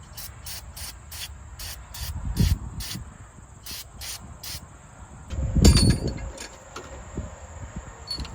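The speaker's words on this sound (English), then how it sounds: "Brake cleaner. Try to get some of it off" Brake cleaner is sprayed onto harvest equipment in two short, muffled bursts set against quiet outdoor background, with a faint, regular high chirping running through much of it.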